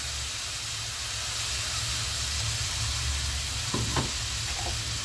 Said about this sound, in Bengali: ফ্রাই প্যানে এই মিশ্রণটা ঢেলে দিলাম